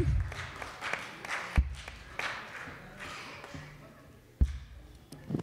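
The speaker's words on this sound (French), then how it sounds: "On applaudit encore une fois." A church congregation at a worship service claps in scattered, uneven bursts, fairly quiet and distant, with a few sharper claps standing out.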